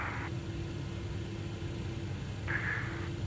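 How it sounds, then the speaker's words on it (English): The engine of a TFDi Design MD-11F freighter spooling up during start in Microsoft Flight Simulator 2020. A steady low rumble and hum sits under brief higher whines near the start and end, heard from inside the cockpit at moderate volume. "Engine number 1 still starting up."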